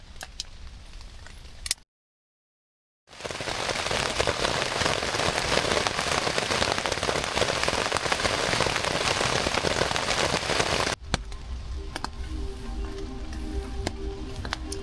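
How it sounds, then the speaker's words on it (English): Steady rain drums on a tent at night in the forest during a wild camping trip, a dense continuous patter that runs loud and unbroken, briefly cut to silence near the start and easing slightly toward the end. "it's kind of tough to sleep in the rain when you're sleeping in a tent because it makes noise"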